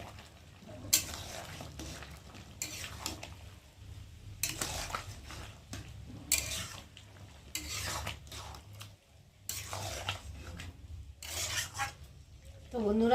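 A cauliflower, potato and soya curry gets stirred in a pan, the spoon scraping and rasping in repeated bursts over a low background hum, close and fairly loud, with no speech.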